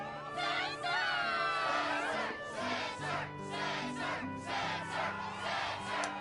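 A game crowd at the Struggle tournament in Kingdom Hearts 2 roars with battle cries and shouting, a loud, rising chorus of many voices with rhythmic chanting pulses across several seconds.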